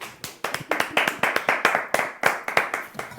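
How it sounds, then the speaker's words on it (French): Close, crisp hand claps from a small audience come in a quick, fairly regular run of distinct slaps, each one sharp and clear, with no voices. "Applaudissez!"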